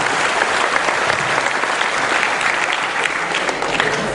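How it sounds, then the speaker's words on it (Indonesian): Enthusiastic audience applause greets Mahfud MD at an anti-corruption event, a thick, continuous clapping that stays strong throughout, close and crowd-sized. "Oke, tepuk tangan semuanya"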